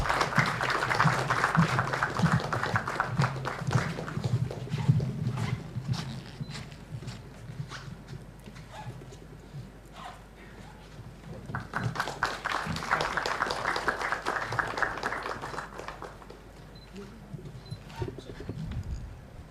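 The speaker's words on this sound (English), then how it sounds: "May I have a huge round of applause, please?" Audience at a formal foundation day ceremony clapping in two swelling bursts of applause, separated by a quieter stretch with scattered claps, moderately distant in a hall.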